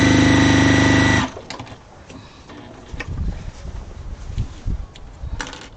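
A sewing machine stitches a purple fabric square while making scrap yardage, running loud and steady for about a second before stopping, followed by quieter handling noises and faint thumps.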